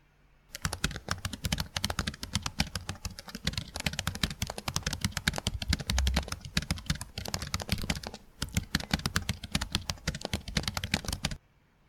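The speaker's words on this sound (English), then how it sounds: "TechCrunch has recorded the two keyboards" Rapid, steady typing on a 2016 MacBook laptop keyboard, close and crisp, with a brief pause partway through and no voices.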